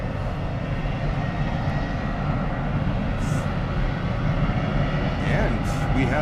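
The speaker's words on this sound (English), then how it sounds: "On approach for the middle runway, Air Canada 777-200s coming from Toronto." An Air Canada Boeing 777-200 on approach to Miami airport, a loud continuous jet engine roar from nearby, with someone talking over it.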